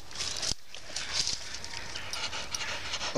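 A dog panting rapidly in the woods, quick rhythmic breaths close to the listener, steady and continuous with a brief pause.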